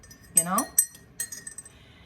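A couple of bright clinks as coffee cups knock together in a toast, followed by softer taps and faint rattles in a quiet room.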